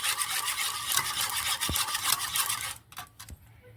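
Sugar is stirred by hand in a bowl to dissolve it while making aam panna, a dense, steady scraping swish of hand against grains. It breaks off near the end into a few scattered taps and quieter rubbing.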